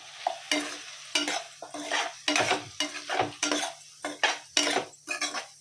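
Tomatoes going into a frying capsicum curry and being stirred, a rhythmic run of about a dozen loud spoon scrapes and clanks against the pan over a low sizzle, close by.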